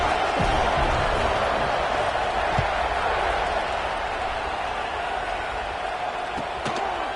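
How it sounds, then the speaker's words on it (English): A football stadium crowd roars in a steady, dense wash of cheering and chatter after a touchdown, loud and continuous with no single voice standing out, a few faint thumps poking through. "this crowd is buzzing after that last score"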